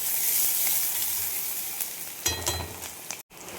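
Onion, carrot, garlic and capsicum sizzle in hot oil for chowmein, a steady close hiss that swells briefly with a stir near the end, then a sharp cutoff.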